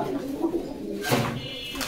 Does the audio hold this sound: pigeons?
yes